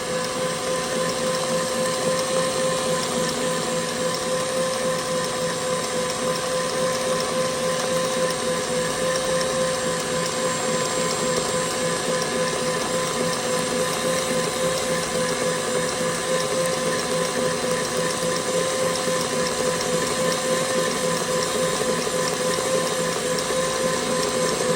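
A KitchenAid stand mixer whips cream sweetened with maple syrup, a steady close motor whir with a rhythmic beater churn that runs unbroken and fairly loud throughout, no voices.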